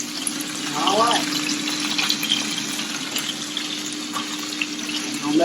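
Whiskey burger patties fry on a hot cooking surface with a steady, fairly loud hiss and sizzle that carries through the whole moment, while a voice talks over it.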